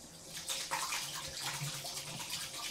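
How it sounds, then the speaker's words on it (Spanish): Tap water runs steadily from a faucet as a washcloth is rinsed under it, a close, continuous splashing rush with no talking. "Esto se enjuaga bajo el grifo y la toallita queda perfecta"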